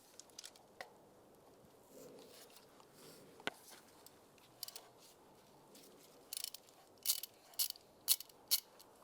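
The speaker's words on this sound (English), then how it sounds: "Now we're going to take these pulleys off, use a 13mm socket," A ratchet on a 13mm socket loosens a pulley nut during a water pump replacement on a 1999–2005 Volkswagen Jetta, with faint, sparse clicks that cluster into a few sharper bursts toward the end over quiet background.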